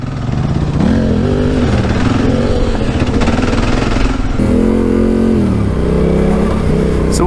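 A Kawasaki KLR and a Yamaha T7 adventure motorcycle ride a dirt trail, their engines loud and close, revving up and down through gear changes with a rumbling, rising and falling drone.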